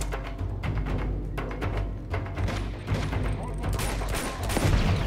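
Rapid, sustained gunfire rattles through a video game fight against bad guys and yetis, a dense continuous barrage of shots with mechanical clatter, steady and loud throughout with a brief voice heard faintly.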